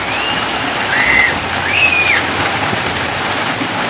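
Steady rain hisses evenly throughout, with a couple of faint, brief squeaky tones rising above the downpour, in a mountain area.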